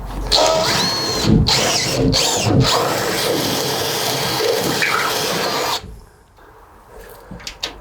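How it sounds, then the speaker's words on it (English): A drill with a 9mm bit grinds steadily through a van bed bracket for several seconds with a harsh rasping whine, then cuts off, leaving quiet with a couple of small clicks. "We need a bigger drill bit. So that was an 8mm. So we're going to try 9mm now."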